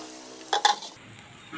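An omelette sizzles softly in a pan, with a couple of sharp utensil clinks against the pan early on before the quiet frying hiss continues alone.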